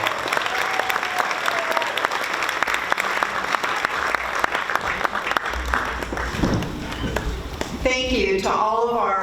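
Banquet guests at a community awards event applaud the merit award recipients, a sustained, dense round of clapping that gives way to a voice at the end.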